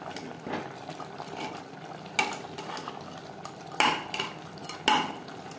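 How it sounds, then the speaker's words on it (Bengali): Garlic cloves, some crushed and some whole, being mixed into mutton kosha in a pan over high flame, with clanking spatula strikes against metal amid a low sizzle, close and without speech. "মাংসের সাথে রসুন বেশ ভালো করে মিক্সড করে দেবো"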